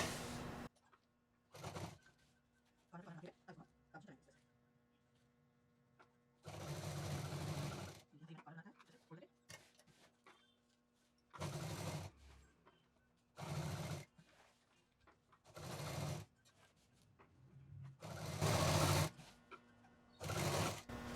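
A domestic sewing machine stitches a bed runner made from leftover cloth, running in repeated loud bursts of rapid whirring separated by pauses, with someone talking quietly between the runs.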